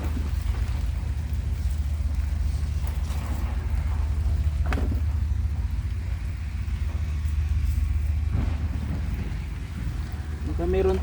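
Steady rain falls across an outdoor cucumber farm, a continuous broadband hiss with a low rumble underneath and a few brief knocks, lasting throughout at moderate level.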